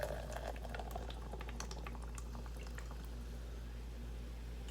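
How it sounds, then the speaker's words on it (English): Fizzy diet cola pours into a cup filled with ice, a steady close crackle and hiss of bubbles with scattered small pops and trickling for several seconds, no talk. "Pour it into the cup."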